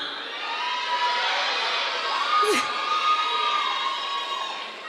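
A pageant crowd cheering and shouting, a dense continuous roar of voices with scattered whoops and one high shriek rising above the mass.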